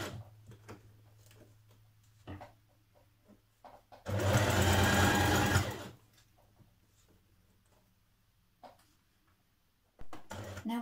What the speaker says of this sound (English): you want to go around that again and stitch it another line of stitching